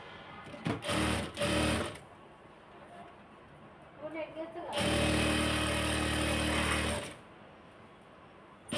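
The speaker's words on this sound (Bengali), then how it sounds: "এই যে একটা সেলাই দিয়ে দিলাম, তো আমি ডাবল করে সেলাই দিব" Sewing machine stitching a salwar seam, with short close bursts of fast mechanical whirring followed by a longer continuous run, and quieter gaps in between.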